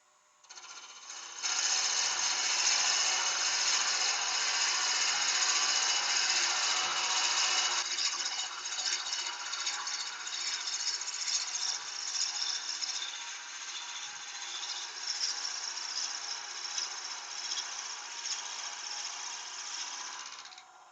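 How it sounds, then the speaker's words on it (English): A steady, hissing, grinding whir of a drill bit held in a chuck boring into wood spinning slowly on a lathe, continuous and close, with no talking. "When I'm drilling anything out, I put the chuck key in this"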